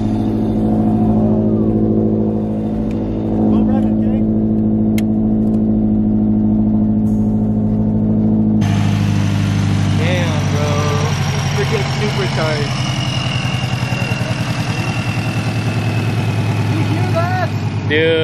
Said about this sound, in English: the supercharger whine is crazy